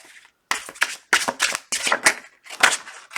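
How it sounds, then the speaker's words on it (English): Tarot cards are shuffled in quick, crisp riffling bursts, about five rapid runs separated by brief pauses, close and fairly loud. "Two more shuffles"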